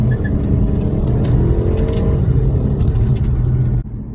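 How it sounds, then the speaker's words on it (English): A car pulls out into traffic, its engine and tyre noise steady and close for several seconds before cutting off abruptly. "I can pull out into traffic."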